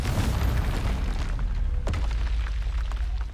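A Confringo fire-blast spell going off in Hogwarts Legacy, one heavy booming explosion that rumbles low and fades over a few seconds, with a brief crack partway through.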